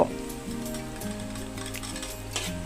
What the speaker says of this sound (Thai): แล้วก็ใส่ กระเทียมแล้วก็หอมแดงลงไปผัดนะเจ้า